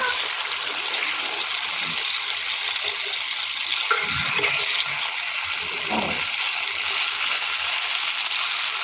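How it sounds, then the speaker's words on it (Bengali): Sliced brinjal and pumpkin fry in hot oil in a pan, giving a steady, even sizzle and hiss with no voices, holding at one level throughout. "কুমড়োটাও হবে, এইভাবে ভেজে নিতে হবে।"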